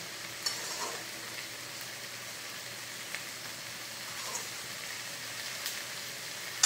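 Soft, even sizzle of hilsa fish heads frying in oil with a few light stirring clinks, steady and moderately quiet, no talking.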